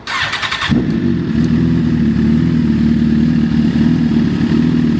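A 2011 Suzuki GSX-R1000 sport bike running on E85 with a base tune cranks briefly, catches and settles into a loud, steady idle close by.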